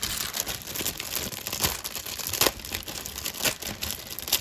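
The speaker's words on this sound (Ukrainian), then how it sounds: "Так, розпаковуємо перший пакет." A crinkly plastic bag from a model kit being handled and pulled open up close, with irregular rustles and sharp crackling bursts, no voices.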